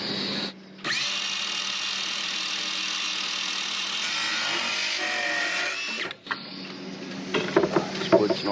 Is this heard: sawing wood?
yes